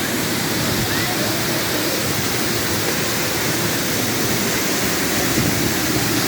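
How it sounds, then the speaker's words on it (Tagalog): Gushing water of Tagbibinta Falls in Maragusan, Davao de Oro, pours as a loud, steady, close roar of broadband rushing noise that fills the whole stretch without letting up. "Padol ta diri sa nagbusagas nga tubig."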